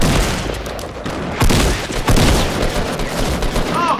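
Fortnite gunfire rattles off in quick clustered bursts of shots, loud and up front, with short gaps between volleys.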